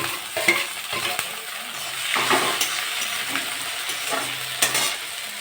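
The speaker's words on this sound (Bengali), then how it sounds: "পেঁয়াজটা লাল লাল হয়ে গেছে, আমি এবার চিংড়ি মাছগুলো দিয়ে দেবো।" Prawns frying in a pan with onions already fried reddish-brown, a steady broadband sizzle of moderate loudness with intermittent scraping stirs and clinks of a utensil throughout, no talking.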